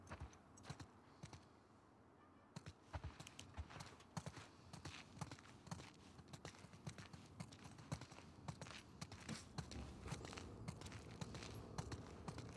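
Horses walk at a steady pace in The Last of Us Part II, hooves clip-clopping in an even, close rhythm through the whole stretch under a soft ambient bed.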